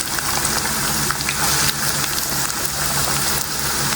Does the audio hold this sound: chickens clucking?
no